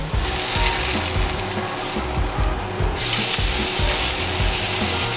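Flank steak sears in a hot pan with a steady, loud crackling sizzle, continuous throughout with faint scraping or shifting noises underneath and no talking.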